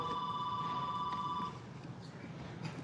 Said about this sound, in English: That's Chad's work phone